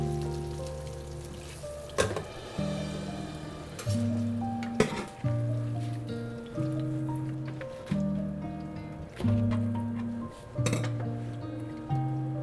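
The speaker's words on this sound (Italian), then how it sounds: "Le alghe friggono anche queste in poco tempo" Oil bubbles and sizzles steadily as seaweed deep-fries, with periodic clinks and scrapes of utensils over a musical backdrop.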